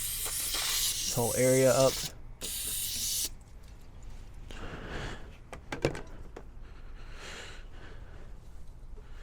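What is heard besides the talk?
spraying brake cleaner from an aerosol can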